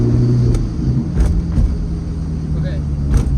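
A rebuilt Corvette engine runs on a test drive as a steady, deep, low rumble heard from inside the car, with slight surges and faint clicks over the drone.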